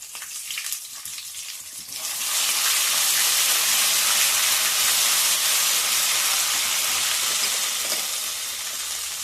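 A few quiet clinks, then crushed cloves and other tempering spices hit hot oil for a cauliflower curry and burst into a loud, steady sizzle that crackles and hisses continuously close by.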